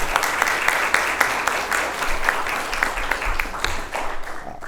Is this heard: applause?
yes